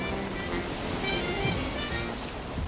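Ocean waves at sea in the survival game Valheim: a constant, loud wash of surf and rushing wind with no clear breaks, filling the whole stretch.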